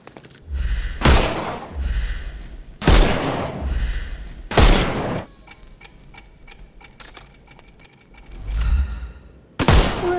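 Rapid bursts of gunfire fired at enemies' armor in a Sherlock Holmes video game, several loud volleys with sharp impacts repeating every couple of seconds, separated by quieter gaps full of ticking mechanical game sounds.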